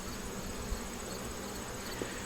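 Honeybees buzzing in an opened hive during an inspection, a dense continuous hum close by, with a couple of soft handling bumps and no talking.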